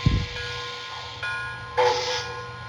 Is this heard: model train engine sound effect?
yes